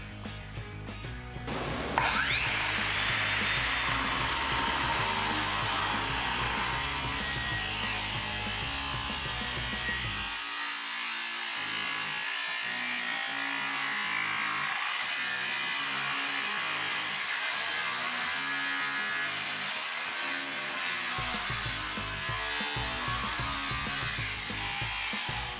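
Makita 18Vx2 LXT 9-inch cordless grinder spinning up and cutting through pipe, a loud, sustained abrasive screech with steady grinding tone that holds for over twenty seconds.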